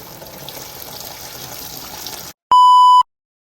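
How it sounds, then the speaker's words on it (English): Coolant gushes and splashes steadily as it drains out of a Mazda RX8 cooling system, continuous and close for about two seconds, then stops, followed by a short loud electronic tone. "I'm gonna turn it off now and drain it all out again."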